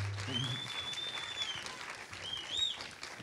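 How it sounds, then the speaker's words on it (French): An audience at the closing award ceremony of a short film festival applauds in a soft, distant patter, with a thin whistle-like tone drifting above it. "sous un tonnerre et un fracas d'applaudissements."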